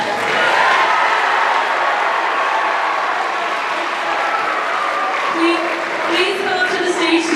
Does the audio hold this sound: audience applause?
yes